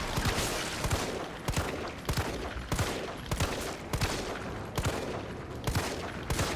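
Bursts of rapid gunfire in the Resident Evil 3 demo repeat in a steady rhythm, sharp cracks in quick clusters about every half second over a dense, noisy background.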